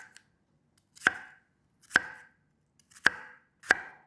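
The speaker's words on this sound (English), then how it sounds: "I'm going to chop up this onion." A knife chops an onion on a cutting board in a home kitchen: four sharp, separate thunks spaced about a second apart, close and clear against near silence.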